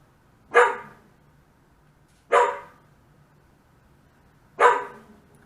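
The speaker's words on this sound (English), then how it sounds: "Pardon my dog." A pet dog barks three times indoors, each single bark sharp and fairly loud, separated by pauses of about two seconds, with a quiet room between.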